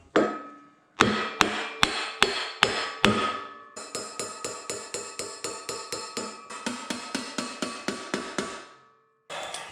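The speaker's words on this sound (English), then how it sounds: "get yourself a block of wood if you got to tap it on." A block of wood taps a bearing into a Scag vacuum housing: loud, sharp knocks, first a few spaced blows, then a long run of quicker, steady taps, with no talking.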